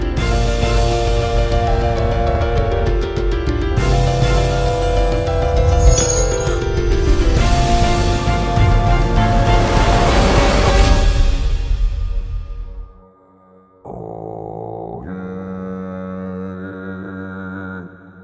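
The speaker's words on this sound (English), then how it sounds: "And then it sounds like this giant, tremendous burp." A giant, slowed-down burp of a huge pond creature from the game Windbound, a long loud rumbling groan with shifting tones that fades away, followed by a short separate lower tone.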